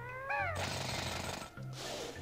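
Drill attack striking ice in the video game Banjo-Tooie, a loud buzzing grind lasting about a second, then a second burst, with a brief game cry at the start.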